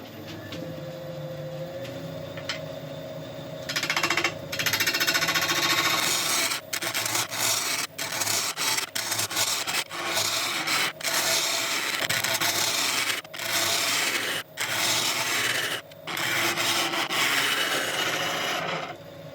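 A gouge cuts the side of a wooden piece spinning on a lathe. The tool gives a steady, loud rasping scrape that breaks off in short gaps as it is lifted and reapplied, with a quieter hum of the lathe at the start.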